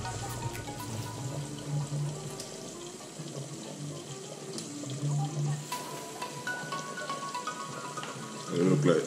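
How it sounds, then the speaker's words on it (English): Water is poured off a pot of boiled potatoes into a sink, making a continuous close splashing and trickling with gurgling swells, under faint speech and surging louder at the end. "so I throw off some of this water"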